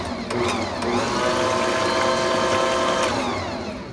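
An electric mixer churns whole wheat bread dough with a steady, close motor whir, its pitch wavering slightly as the load shifts, running continuously with no voices.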